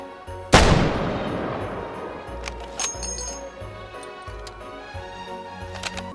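A single loud, booming shot from a 13.2x92mm bolt-action rifle fired off a bipod in the VR game H3VR, with a long decaying echo, followed by faint metallic clinks of handling, with no talking.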